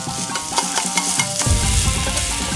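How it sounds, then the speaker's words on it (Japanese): Ground meat sizzles in a preheated, oiled frying pan, a steady close hiss that grows louder and denser partway through as stirring scrapes and taps sound over it, with no talking. "はい、で、ひき肉さんをチラチラ入れていきます。"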